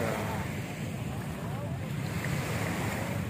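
Steady wind and rolling surf at Dolomite Beach make a dense, continuous wash, with gusts buffeting the microphone up close.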